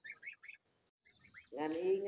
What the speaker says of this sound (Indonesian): ini dia teman-teman semuanya proses angsa lagi makan ya